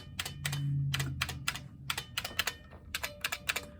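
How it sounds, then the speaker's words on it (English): Close, crisp typing on a buckling spring keyboard with a faulty Q key spring: loud, sharp key clacks in an irregular rhythm, a short pause midway, then a quicker burst of keystrokes. "This keyboard has some issues, as you could hear."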